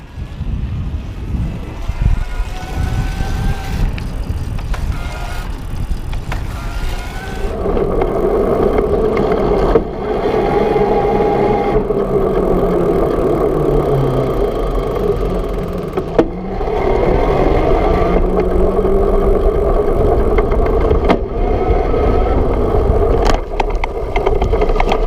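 A CUBE Reaction Hybrid HPA Pro 29 e-bike with a Bosch motor ridden in turbo mode outdoors, giving a steady, loud rolling and motor drone with wind rush that holds continuously through the clip.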